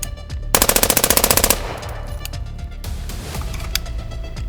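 A Lazarus paintball marker fires a rapid, even string of about a dozen loud, close pops in roughly one second, then goes quiet under steady outdoor background noise.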